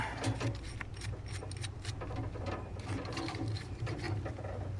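A flaring tool is tightened down to drive an anvil into a steel brake line during brake repair on a 1957 Ford Ranchero, giving faint, close, rapid ratcheting clicks in a steady rhythm.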